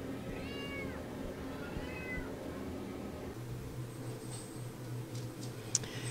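A black cat gives two clear meows in the opening seconds, then goes quiet over a low, steady indoor background hum with a faint tick near the end.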